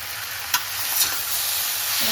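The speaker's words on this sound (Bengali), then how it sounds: "টমেটোটাই গলে গেছে, এই যে ভাজা ভাজা হয়ে যাচ্ছে" Tomato fries in a pan with sugar and spices, making a loud, steady sizzle with a couple of brief scrapes from stirring near the middle, close up and with no voices.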